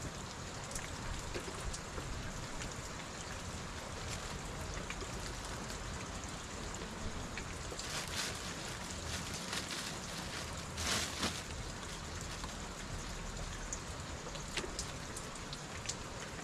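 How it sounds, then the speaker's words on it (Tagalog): Steady rain falls continuously, a dense even patter with occasional louder drops, no voices present. "Marangkada naman agad ng"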